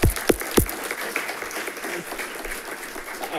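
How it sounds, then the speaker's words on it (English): A few sharp claps open, then a smaller audience after a cyber safety workshop keeps up softer, thinner applause at moderate distance, fading slightly toward the end. "Round of applause,"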